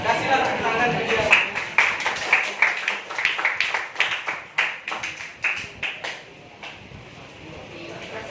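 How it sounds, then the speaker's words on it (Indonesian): Classroom applause for a student, a burst of many hands clapping in quick uneven rhythm that builds then fades over several seconds, with voices around it. "Kasihlah tepuk tangan ke dia"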